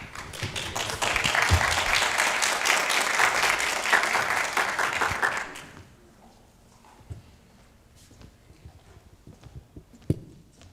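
A pitch-competition audience gives a presenter a round of applause, loud dense clapping that lasts about five seconds and then stops abruptly, leaving a quiet room with a few scattered taps and knocks.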